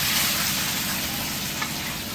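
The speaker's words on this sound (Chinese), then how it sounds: "先把肉来煎一下。" Meat sizzling and frying in a hot wok in a home kitchen, a steady dense crackle holding at even loudness for the whole stretch, close and continuous with no talking over it.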